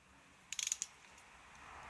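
Bolt being turned in aluminium threads on an ATCO mower, a quick close series of about five ratcheting clicks, quiet against a faint background hiss.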